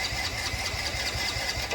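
A Hero motorcycle with a fuel pump fault cranks and catches, its engine chugging in a quick, uneven pulsing rhythm close by, with no voices.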